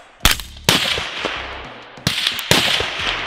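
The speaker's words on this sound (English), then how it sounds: "Those loud guns are just messing with this." Loud gunshots outdoors, four sharp cracking bangs in two pairs, each followed by a short echoing decay, with no talk.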